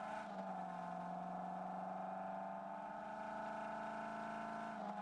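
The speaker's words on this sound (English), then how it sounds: "So this is the engine sound." A Ford F-150 RLE pickup truck engine in a video game holds a steady, continuous drone at an even pitch throughout, with no talking.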